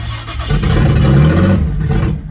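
A Datsun Z race car engine cranks and catches, then runs rough and loud for about two seconds before cutting out. It is close and has no talking over it.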